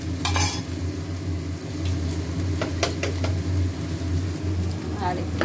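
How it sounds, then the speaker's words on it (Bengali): Onions frying in oil in a wok give a steady, close sizzle, with a few sharp utensil scrapes and clinks from stirring scattered through. "পেঁয়াজ ভাজা হচ্ছে"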